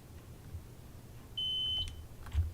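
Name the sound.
warning beep in the video game Train Sim World 2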